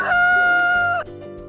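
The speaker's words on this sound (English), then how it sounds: "Do your thing, Mr. Rooster." A farm rooster gives a loud, close crow with a strong sustained tone that drops off near the end, followed by softer barnyard background.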